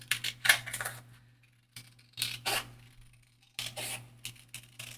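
Scissors snip around a paper cutout for a craft journal, close and quiet, in three bursts of quick crisp cuts separated by short pauses, over a faint steady hum.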